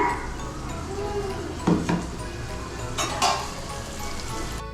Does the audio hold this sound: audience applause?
no